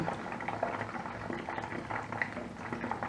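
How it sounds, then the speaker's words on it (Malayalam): Mushroom pieces deep-frying in hot oil for Mushroom Manchurian, giving a steady, dense bubbling and crackling that runs on without pause, fairly close and moderately loud. "ഇനി ഇത് ഗോൾഡൻ ബ്രൗൺ ആകുന്നവരെ നമുക്കിത് ഫ്രൈ ചെയ്യണം"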